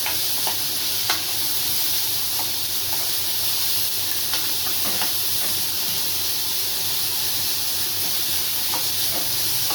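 Ridge gourd peel sautéing in a pan for chutney gives a steady, close sizzling hiss, broken by a few sharp spatula clicks and scrapes.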